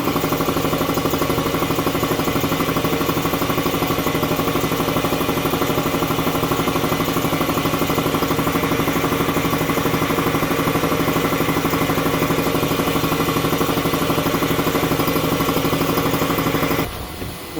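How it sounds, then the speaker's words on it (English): An air compressor runs loudly and steadily up close, a continuous mechanical drone with a dense rattling vibration, then cuts off abruptly near the end. "Starting compressor now."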